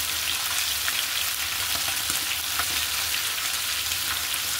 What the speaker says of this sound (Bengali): এক পিঠ হলে আমি আরেক পিঠ উল্টিয়ে ভালো করে মাছগুলোকে ভেজে নেব।